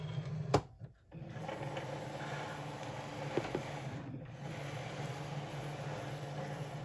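A craft cutting machine draws a cutting mat in and measures it, giving a steady mechanical whir with a brief clunk and short pause early on, then continuing motor hum close by.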